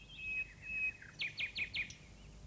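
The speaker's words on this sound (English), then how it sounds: "in the tops of the trees, the nightingales were singing" A nightingale sings alone outdoors: a thin whistled note, then four quick bright chirps in a row, moderately close against quiet background.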